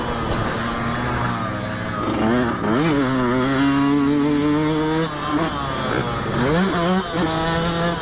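A Yamaha YZ dirt bike, either a 2020 YZ250FX or YZ125X, rides around a track, its engine loud and close as it revs up and down through gear shifts.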